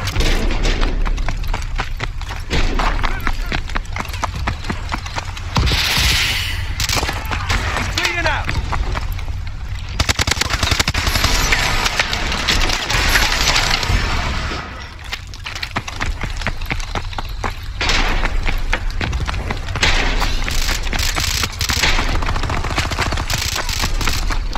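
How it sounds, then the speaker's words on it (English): Missile strikes in Call of Duty Advanced Warfare: dense, sustained barrages of booming impacts and rattling gunfire that fill the scene, with heavier surges of explosions recurring throughout, loud and close, with occasional voices mixed in. "Missile strikes."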